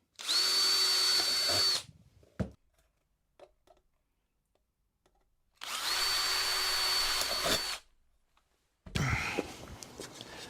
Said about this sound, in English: Just going to punch a little hole and then drill through.